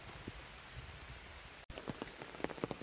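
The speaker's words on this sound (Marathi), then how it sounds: "तर बघू शकता पाऊस पण आता जोरात आलेला आहे." Heavy rain falls on a farm, a soft, even patter that is fairly faint. A brief cut in the middle is followed by closer, denser drops striking a surface.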